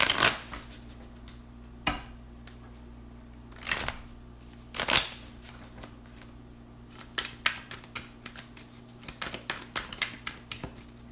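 Tarot cards riffled and shuffled by hand in several bursts, with loud shuffles near the start and a run of quick, lighter card flicks and taps toward the end, heard alone with no voices.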